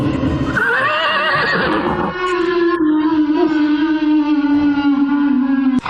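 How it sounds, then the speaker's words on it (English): A horse whinnies loudly in a storytelling scene, a wavering neigh rising then settling into a long sustained call, alone with no talk, ending abruptly after about six seconds. "jumped onto his horse,"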